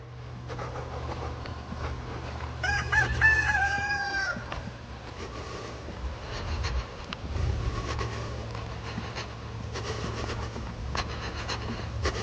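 Backyard chickens cluck and a rooster crows loudly and close by in the early seconds, over a steady low rumble, with scattered quieter clucks and rustling continuing afterward.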